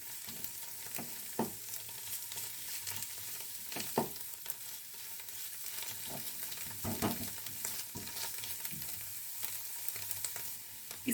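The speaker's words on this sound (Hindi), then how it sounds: "आपने तब तक भूनना है जब तक कि इसका मॉइस्चर ना ख़त्म हो जाए" Mushrooms sauté in a pan over medium-high flame, giving a soft continuous sizzle with occasional stirring clatters and knocks from a spoon, close-up and without speech.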